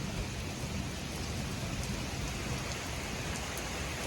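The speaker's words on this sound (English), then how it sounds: "But the rain is torrential." Torrential rain pours down during a supercell thunderstorm over the Queen City, a dense, steady roar of heavy drops hitting surfaces at close range, unbroken and loud with no voices.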